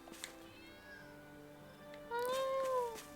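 A cat meows in the Tales of Arise video game, a single drawn-out mew with a rising and falling pitch, fairly clear over quiet game ambience and music.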